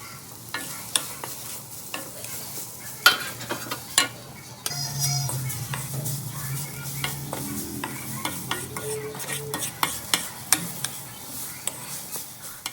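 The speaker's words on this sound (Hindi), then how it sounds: "जो छुहारे हमने पीस कर रखे हैं ना, उनको भी इसी तरह रोस्ट कर लेते हैं।" Ground dry dates roast in a pan while a spoon stirs them, giving repeated sharp scrapes and taps over a soft, steady sizzle.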